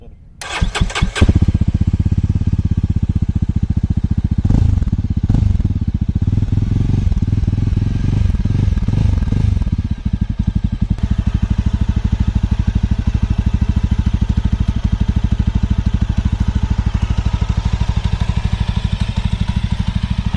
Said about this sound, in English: Now let's listen to this exhaust note.